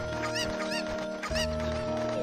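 Chickens clucking in Kakariko Village in the game The Legend of Zelda: Ocarina of Time, several short squawky calls repeating over steady game music, with no talk.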